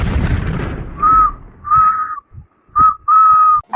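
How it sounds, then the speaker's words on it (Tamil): A man whistles a short melodic tune in four bright, clean phrases with brief gaps, loud and close, after an opening burst of louder noise. "அவர் என்ன பார்த்து சிரிச்சுக்கிட்டே விசில் அடிக்கிறாரு"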